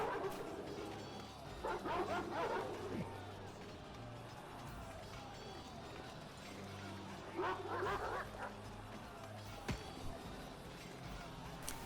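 War dogs barking during a battle in the video game Total War: Rome Remastered, with faint, distant bursts of yelping and barking over a low battlefield rumble.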